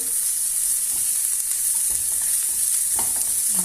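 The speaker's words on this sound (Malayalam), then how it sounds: "വെളുത്തുള്ളി ചെറുതായി മുറിച്ചതാണ്. പച്ചമുളക് ഇട്ടുകൊടുത്ത്" Chopped garlic and green chillies fry in oil while being stirred, a steady, even close-up sizzle with soft scraping underneath and no speech.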